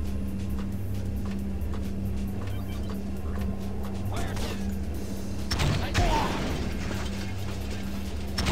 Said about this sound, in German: man kann auch Granaten schießen, die nicht direkt explodieren, sondern erst noch ein bisschen rumtitschen sozusagen